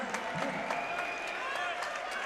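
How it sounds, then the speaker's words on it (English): Crowd noise at a men's college volleyball match between Loyola and BYU in Alumni Gym swells steadily through the gym, with a few sharp claps poking through and a commentator talking over it. "The crowd will come to their feet at Alumni Gym"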